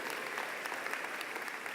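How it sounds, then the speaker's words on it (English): Crowd clapping at a rainy River Hill High School commencement in 2017, a short, even wash of many hands applauding together at moderate volume. "give her a round of applause if you would."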